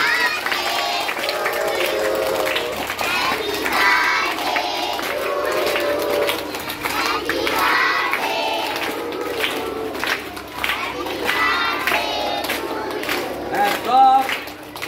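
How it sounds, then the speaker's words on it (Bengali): Crowd noise at a rooftop birthday welcome ceremony, with dense, continuous clapping and cheering that stays loud throughout, voices shouting and mixing into the din. "জোরে হাততালি দিবে যখন বরণ হবে"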